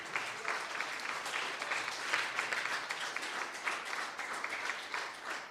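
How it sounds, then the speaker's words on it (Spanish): A church congregation applauds the Lord during a sermon on the power of the gospel, with dense, sustained clapping from many hands that holds steady at moderate volume for several seconds and carries no speech. "Denle el aplauso al Señor."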